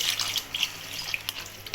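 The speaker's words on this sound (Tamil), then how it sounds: "தண்ணி பார்த்து போட்டுக்குங்க." Water streams into a cooking pot while preparing chicken biryani, a steady splashing pour close by, lasting under two seconds, with no talking.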